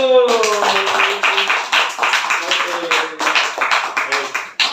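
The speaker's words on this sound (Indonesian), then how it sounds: "Tepuk tangan dong buat kelompok 1" Classroom students clapping for group 1 during a lesson, a brief burst of hand claps rising after a voice, continuing in uneven bursts with talk mixed in before cutting off abruptly.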